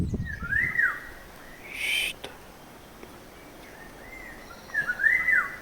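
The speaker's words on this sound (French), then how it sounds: "vous entendez l'oiseau? Comment il chante?" A bird sings in woodland in short whistled phrases, one at the start and two more near the end, over a faint, quiet outdoor background.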